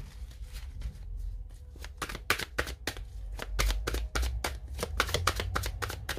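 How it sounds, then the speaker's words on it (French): A deck of tarot cards is shuffled close up, with rapid riffling and repeated sharp card snaps that keep an irregular beat, occasionally thudding against a surface. "Donc je vais bien mélanger le jeu"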